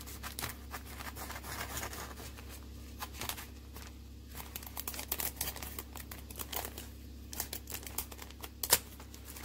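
Scissors cut down the side of a plastic sheet protector used for polymer clay work, producing close, crinkly snips and rustles in irregular bursts over a low steady hum, with one sharper crackle near the end.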